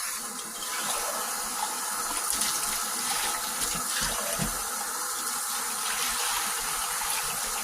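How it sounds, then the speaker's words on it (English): Homemade butter is rinsed under a running kitchen tap, with a steady close gush of water splashing into a sink and occasional shifts as the butter is handled, and no speech. "You want to rinse it well, and then we're going to form it into a ball once I'm satisfied that it's rinsed well."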